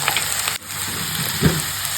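Curry leaves fry in hot oil with a steady close sizzle, a brief dip partway through and a small stirring clatter near the end.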